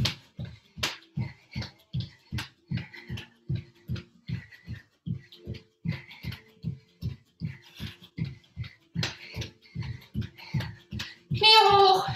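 Rhythmic hand claps during a high-knees workout, about two per second and steady throughout, with a trainer calling out encouragement between them.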